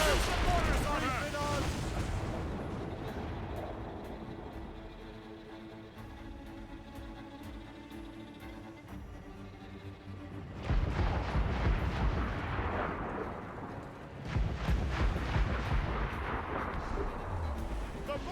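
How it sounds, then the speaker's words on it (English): Ship mortars fire in Assassin's Creed Rogue during a naval battle, heavy booming blasts and rumbling gunfire that swell loudest near the end, with game voices calling out beneath. "Use the mortars on her!"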